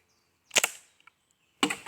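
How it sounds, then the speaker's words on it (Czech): A Bombarder 11 airsoft gun fires one sharp crack, a near, brief snap, followed by a few faint clicks and then a second sharp report. "protože jsem nádherně vystřelil"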